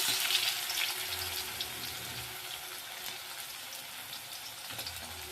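Potato pieces go into hot oil with cumin and chopped garlic in a kadhai, giving a soft, continuous hiss of frying that stays even and fairly quiet throughout.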